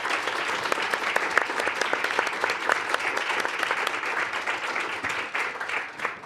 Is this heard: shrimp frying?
no